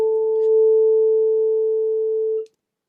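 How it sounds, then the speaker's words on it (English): A steady 440 Hz pure tone sounds loud and clean for about two and a half seconds, then cuts off abruptly into silence. "That's the sound of 440."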